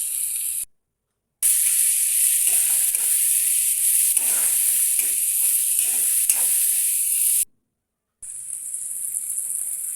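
Cumin seeds sizzle in hot oil while frying for a lady finger curry, a steady, close, bright hiss interrupted twice by short gaps of silence.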